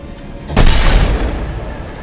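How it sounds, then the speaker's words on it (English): A gunship attack in the video game Mass Effect 2 erupts halfway through as a loud, close burst of gunfire and booming impact that rumbles on and slowly fades over the final second and a half. "Alright, we shot it and it flies away."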